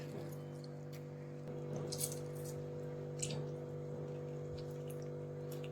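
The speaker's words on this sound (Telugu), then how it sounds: "ఈ విధంగా చక్కగా కలుపుకోవాలి మసాలాలు" Spice masala marinade with squeezed lemon being mixed by hand into raw chicken for fried chicken, soft wet squishing at close range over a steady electrical hum, with no talk.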